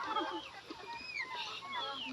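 A Rhode Island Red rooster clucks and calls in short, scattered bursts, fairly close, with faint background noise and no talking.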